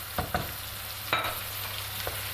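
Tomatoes go into a pan of softened vegetables for a chicken sauté, with a steady sizzle and a few brief stirring scrapes and clatters over it.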